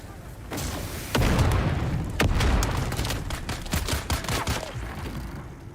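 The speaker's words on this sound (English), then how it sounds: "Throwing grenade." A grenade explodes in a first-person shooter game amid heavy gunfire, with loud booms and rapid shots overlapping continuously up close; voices are faintly present.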